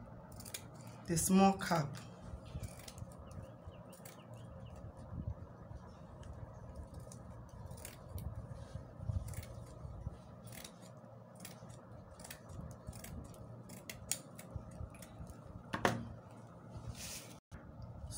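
Scissors cut through material for a fascinator in a few crisp snips near the start and again later, with a person talking quietly in between.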